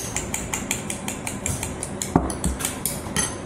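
Bread dough seasoned with black pepper and salt is beaten in a bowl, a utensil clinking against the rim in quick, steady rhythmic strokes, close and fairly loud, with one heavier knock partway through.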